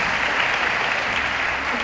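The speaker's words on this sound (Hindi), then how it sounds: "आपकी भरपूर तालियां।" Audience applause at an Urdu department mushaira poetry recital, a steady dense wash of many hands clapping together, close and loud throughout without any voice.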